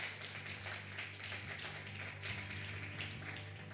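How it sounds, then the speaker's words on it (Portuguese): A church congregation applauds during a Friday evening miracle service, a dense, continuous patter of many hands clapping at a moderate distance over a steady low hum. "Pode aplaudir Jesus."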